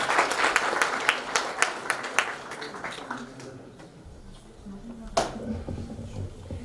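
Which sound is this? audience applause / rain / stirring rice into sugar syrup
audience applause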